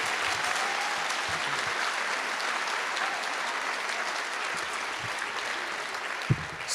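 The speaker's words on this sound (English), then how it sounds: "let's clap for them" An audience claps steadily for a senior high school choir at a spring finale concert, a dense sustained round of applause that fills the whole stretch, with a brief thump near the end.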